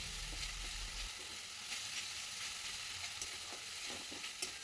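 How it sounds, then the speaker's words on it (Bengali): Ginger-garlic paste and onions are stirred in a hot frying kadai for a chicken tangdi masala, giving a steady close sizzle with faint scrapes of the spoon and no talking. "এবার কড়াইতে এই আদা বাটা রসুন বাটাটা পেঁয়াজের সঙ্গে ভালোভাবে আমি নাড়িয়ে নিচ্ছি।"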